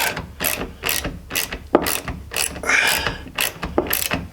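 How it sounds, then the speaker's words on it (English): A ratchet wrench snugging a bolt during a TruXedo ProX 15 tonneau cover install on a 2021 Jeep Gladiator Rubicon, loud close rapid clicking bursts in repeated strokes with brief pauses between them. "You want to make it pretty snug, which then once you get it snug in there, you're going to take the bolt back out again."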